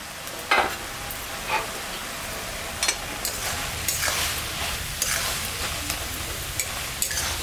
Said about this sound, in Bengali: শাকটা এখন ঢাকা দিয়ে একটু সিদ্ধ হোক।